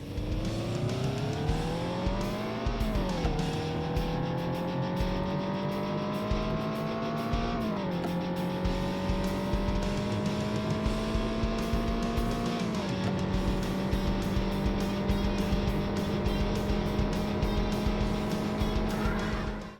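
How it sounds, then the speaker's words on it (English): Race car engines from the Saturn version of The Need for Speed video game roar continuously and loudly, rising in pitch through repeated gear shifts, with tires screeching across the run and no talking. "Tires screech nice and good, the engine sounds great"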